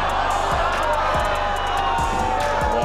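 A tennis crowd at Wimbledon loudly jeers and boos Just Stop Oil protesters, a dense continuous roar of many voices with shouts over it.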